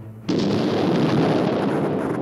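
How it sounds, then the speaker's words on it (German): A tank explodes on the Apollo 13 moon mission, heard as a sudden loud burst that rises into a sustained rumbling roar. "dem Weg zum Mond explodiert ein Tank."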